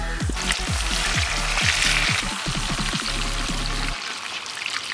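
Spring chicken pieces frying in hot oil, a loud bubbling sizzle with crackling pops and a few clanks from turning the pieces, easing off abruptly near the end.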